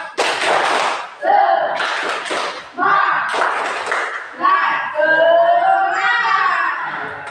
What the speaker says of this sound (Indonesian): Kita kasih dulu tepuk semangat.